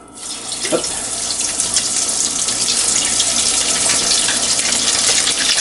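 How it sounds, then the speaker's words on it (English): Crab puffs fry in hot oil, which sizzles and bubbles loudly and continuously after a few quiet moments, a dense steady hiss close by. "We want to fry those until those are golden brown."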